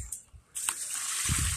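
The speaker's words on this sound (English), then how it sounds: "you just basically just pour your water on the ground" Water poured from a container onto the ground around a dogwood tree, a steady close splashing gush that starts abruptly partway in and continues to the end, with some low rumbling handling noise.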